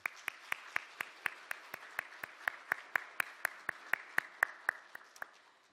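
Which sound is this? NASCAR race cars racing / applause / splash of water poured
applause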